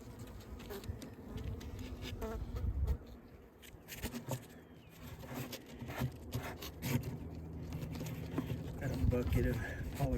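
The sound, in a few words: honey bees buzzing around hive colony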